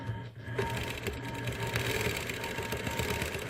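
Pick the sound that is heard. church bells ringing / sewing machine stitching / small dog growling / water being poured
sewing machine stitching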